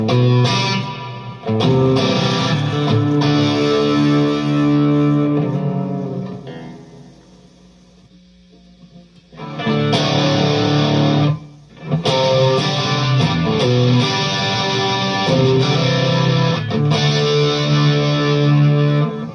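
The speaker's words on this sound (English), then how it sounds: "Much deeper reverb." Distorted electric guitar chords through a Fender Mustang Micro drenched in deep reverb, sustained phrases with a long decaying pause in the middle.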